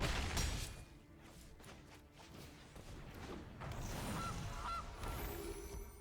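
A goose honking in a digital card game as the Goose card is played, a few faint honks over soft whooshing and mechanical game effects.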